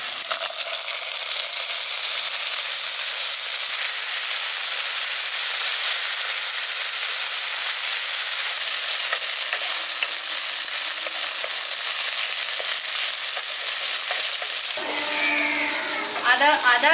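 Ginger and cumin paste fries with papaya in a pan, a loud, constant sizzle throughout, with a faint stirring scrape and a brief voice-like tone near the end.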